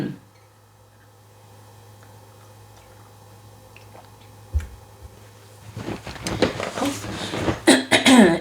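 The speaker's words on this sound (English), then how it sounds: "Let me just clear my throat out." Throat clearing and coughing from one nearby person, several harsh bursts building in the last few seconds after a quiet stretch with a faint ticking and low hum.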